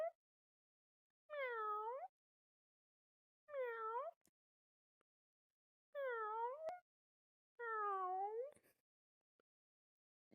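A person imitates a cat with four separate, clear meows spaced a couple of seconds apart, with near silence between them.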